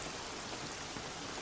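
Steady rain falls through a scene in a dubbed episode of the anime Odd Taxi, a dense, even hiss of drops filling the soundscape with no voices over it.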